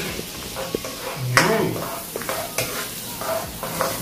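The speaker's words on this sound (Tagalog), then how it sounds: "Habang sinusutay natin ang ating garlic sa butter" Garlic sizzles in two tablespoons of melted butter as a spoon stirs it in a pan for a creamy cheesy shrimp dish, with steady frying hiss, scraping strokes and a brief spoken word.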